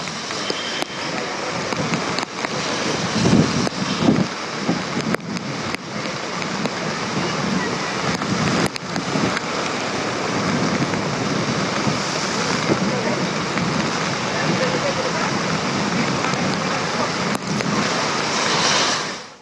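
High-tide waves surge against the seafront at the Gateway of India in Mumbai during rain, making a continuous rushing, churning roar mixed with wind buffeting, with occasional voices underneath.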